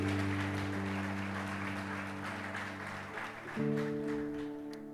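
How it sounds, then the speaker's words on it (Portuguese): Applause from a church congregation, a steady broad wash of clapping that carries on for the full stretch, with sustained organ or keyboard chords ringing underneath and shifting partway through. "Você pode aplaudir o Senhor por essa palavra?"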